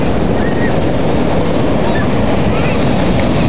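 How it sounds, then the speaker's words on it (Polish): Big, rough ocean waves crashing onto a beach on a Friday afternoon, a loud continuous surf roar mixed with heavy wind buffeting the microphone. "Fale jak szalone, wielkie, a Ian oczywiście wody się nie boi."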